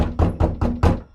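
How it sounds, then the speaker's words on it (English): Four heavy knocks on a door in an animated horror story, evenly spaced and loud, with a dull low thud to each blow and no voices. "someone began knocking again."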